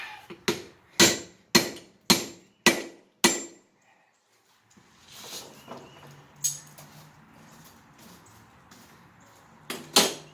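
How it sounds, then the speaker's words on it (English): Hammer blows forging a custom chef knife blade, six sharp ringing metal strikes in quick even rhythm, then a pause and scattered softer clanks and scrapes, with a final pair of strikes. "We'll get our hammer working today."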